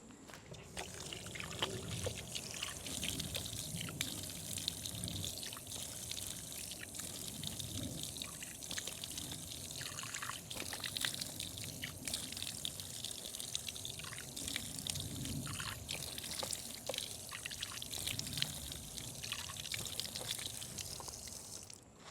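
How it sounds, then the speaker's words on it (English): Running water pours steadily as someone rinses dirt from their eyes. The trickle is quiet, continuous and slightly splashy, with no talking. "I'm gonna go rinse my eyes for a little bit."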